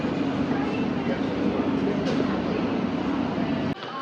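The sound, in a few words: London Underground train running in tunnel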